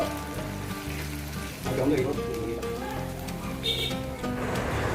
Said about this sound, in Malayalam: അത് കഴിഞ്ഞ് നമ്മൾ ചതച്ചരച്ച് വെച്ച ഇഞ്ചി പച്ചമുളകിൻ്റെ എല്ലാം കൂടെ മിക്സ് ഇട്ട് നല്ല രീതിയിൽ മൂപ്പിച്ചെടുക്കുക